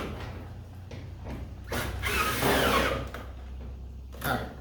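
A power tool driving screws into garage door insulation, whirring in short bursts with a longer mechanical run in the middle, close by over a low steady hum.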